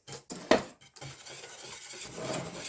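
A spoon stirs dry yeast and sifted flour into a dough mixture in a bowl, with sharp clinks and scrapes against the bowl in bursts early on, then a steadier soft scraping, no voices.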